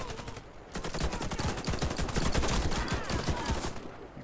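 Rapid automatic gunfire in the video game Warface, dense bursts of shots crackling almost nonstop, loud and close throughout, with a brief lull near the start.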